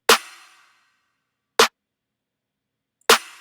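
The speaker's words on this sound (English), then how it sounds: "I really like this clap on top of other claps," Several layered clap drum samples sound together in three sharp hits spaced evenly apart, the first with a longer ringing tail, the others tight and dry, with silence between.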